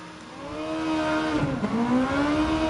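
A Honda Civic engine revving high in Gran Turismo 7, a sustained rising whine that dips briefly and climbs again, loud and alone.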